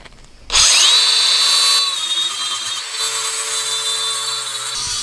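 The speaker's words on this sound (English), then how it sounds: "So we grind this all off, get it to bare metal." An angle grinder bites into a steel motorcycle trailer hitch carrier, grinding it down to bare metal before welding. It spins up abruptly and holds a loud, steady high whine with a slight drop in pitch under load, heard alone.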